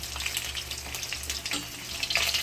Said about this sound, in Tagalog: Pag mainit na yung mantika, saka ilagay yung isda.